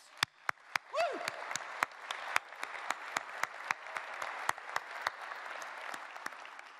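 Keynote audience at the 2013 International CES in a large hall applauds the exhibitors, a soft, diffuse crowd clapping punctuated by sharp, regular loud claps close by and a brief whoop near the start.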